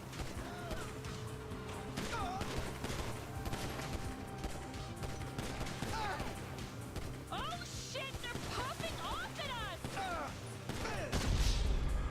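Gunfire in the video game Grand Theft Auto V, with scattered shots and crashes mixed into a busy game soundtrack, heard under people talking.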